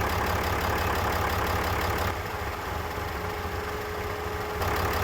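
A 6.7L diesel engine idling steadily after a jump start, a constant loud low rumble with a slight shift in tone midway, close up with no voices.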